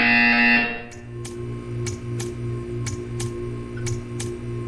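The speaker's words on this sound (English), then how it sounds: "You will hear a buzzer. When you hear the buzzer, stare at the art." A harsh electronic buzzer in the video game Portal 2 blares for about a second, then cuts off, leaving a soft steady hum with faint repeated ticks.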